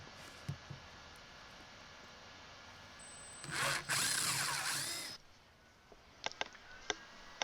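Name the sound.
power drill drilling holes for toilet plumbing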